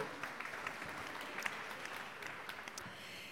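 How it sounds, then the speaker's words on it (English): Applause from a conference audience in Brussels at the opening session of a European palm oil alliance event, a steady, moderately distant clatter of many hands lasting a few seconds. "Give him a round of applause, ladies and gentlemen."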